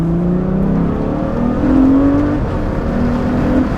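Ferrari F12 Berlinetta accelerating hard on a snowy road, a loud sustained engine wail rising through the gears with brief dips at shifts, heard from inside over steady road noise.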